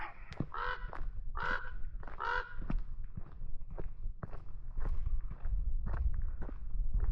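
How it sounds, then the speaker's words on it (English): Crows caw in the Nevada canyon, three harsh calls in quick succession near the start, then footsteps crunch steadily on the ground with faint outdoor ambience. "What are you doing, crows?"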